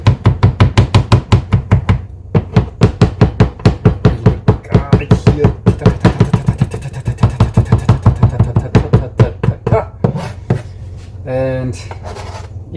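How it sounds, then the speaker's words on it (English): Garlic chopped with a not-very-sharp kitchen knife on a cutting board for a salad: fast, loud, rhythmic knocks in long runs, briefly pausing, then a short burst of speech near the end. "Cutting a little bit garlic."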